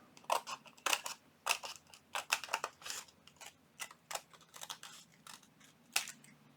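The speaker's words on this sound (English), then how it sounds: "take our scissors and we're just going to gently cut around here" Scissors snip through paper in a series of short, crisp cuts, irregular in rhythm, close and fairly quiet with no talking.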